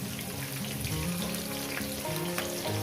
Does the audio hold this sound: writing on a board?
no